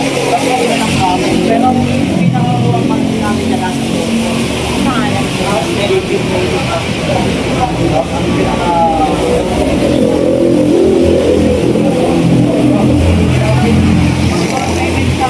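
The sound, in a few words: Honda motorcycle engine revving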